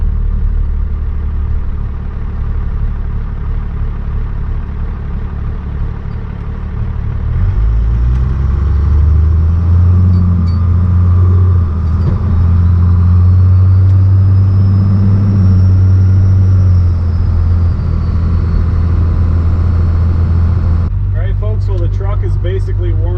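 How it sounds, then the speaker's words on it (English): A turbocharged car with a freshly repaired boost leak idles, then pulls away and accelerates, its engine rumble swelling loud and close from inside the cabin before easing off, with a voice talking over it at times. "let's take it for a drive and see how the throttle response has changed"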